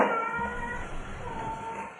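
A cat meows in a drawn-out, tonal cry, followed after a short pause by a second meow, fairly close with no talking.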